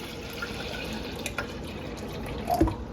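Water pouring from a Brita filter, a quiet steady trickle with small splashes and a brief louder gurgle near the end.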